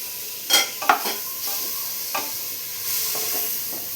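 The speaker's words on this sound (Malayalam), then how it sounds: "എല്ലാം കൂടെ അതുപോലെ ഒന്ന് മിക്സ് ചെയ്ത് കൊടുത്തിട്ടുണ്ട്" Chopped tomatoes being stirred into a squid roast masala in a pan: a soft frying sizzle with several close scrapes and clinks of a spoon, then steadier sizzling, no voices.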